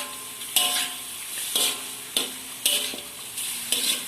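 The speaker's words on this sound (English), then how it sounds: "Stir all these ingredients and a bit of oil." Spoon scraping and stirring chicken curry ingredients with a bit of oil in a pan, in distinct loud strokes about once a second over a soft sizzle.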